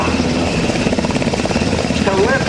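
A military helicopter, a Blackhawk at a 2009 Rhode Island Air National Guard open house, lifts off with a loud, close, pulsing rotor thump and engine whine, a steady throb from start to end.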